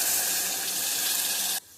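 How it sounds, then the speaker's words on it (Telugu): Water gushes steadily into a pan of seasoned fenugreek-leaf dal with turmeric and salt, a close, bright, continuous pour that stops abruptly after about a second and a half. "నీళ్ళు వేసేయాలి"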